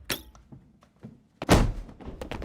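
A TV remote lands with a few soft thunks, then one louder, fuller thud about halfway through, the sounds close and separate.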